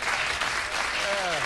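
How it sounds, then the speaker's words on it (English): A short burst of studio audience clapping on a late-night talk show, dense but brief, with a voice briefly overlapping. "A mercy clap."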